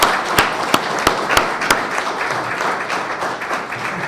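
Applause during a municipal council session in Slovenske Konjice, a short burst of sharp, distinct claps from a small group that soon fades into softer scattered clapping.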